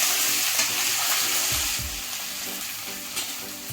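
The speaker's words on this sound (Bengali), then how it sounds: "এতে রসুন বাটা দিয়ে ভালোভাবে একটু নেড়ে ছেড়ে" Onion and garlic paste sizzles in hot oil in a pan while being stirred for a chicken curry, a close, steady frying hiss broken by soft scraping strokes of the spoon.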